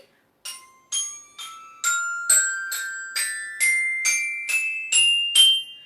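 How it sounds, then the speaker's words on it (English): Metal bars of a percussion instrument such as a glockenspiel are struck one at a time, about eleven bright ringing bell-like notes stepping upward at an even pace, close and clear with no talking. "It does sound like a bell because it's made of metal"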